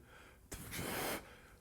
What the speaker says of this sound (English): I'm going to get a tight, choked kind of breath. A gasp, if you will.